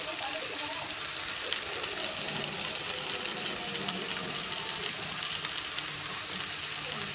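Curry being stirred and fried in a pan, a dense, even hiss of sizzling oil that carries on without pause, close and fairly loud.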